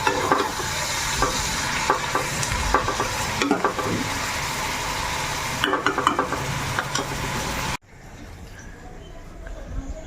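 Onion stalks sizzle steadily while being stirred in a pan, with scraping and clinking throughout; voices talk faintly in the background, and the frying cuts off abruptly near the end, leaving a quieter room tone.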